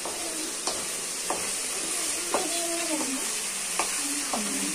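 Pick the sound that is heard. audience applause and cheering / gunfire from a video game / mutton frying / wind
mutton frying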